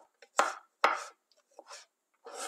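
Garlic cloves being chopped coarsely with a knife on a board, a few sharp, close knife strikes landing in an uneven rhythm with brief quiet gaps between them.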